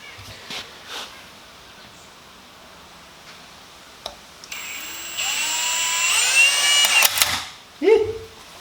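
Drill bit boring slot ends into a car body panel on a G-body Cutlass, a steady high-pitched whine rising and holding for a few seconds, then stopping with a brief bump as the bit breaks through.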